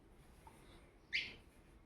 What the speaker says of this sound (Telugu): పిచ్చుకలు వచ్చినాయి.